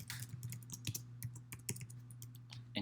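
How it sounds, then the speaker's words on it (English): Rapid keystrokes on a computer keyboard as a name is entered at a login screen, close and crisp, tapping in quick irregular bursts over a steady low hum. "You will enter as a student or a guest by typing your name"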